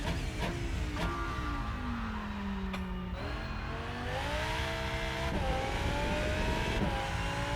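A GT3 race car at Spa in the Rennsport sim roars steadily near and loud, its engine note climbing through the revs with several upshifts and dips as it pushes through the corners.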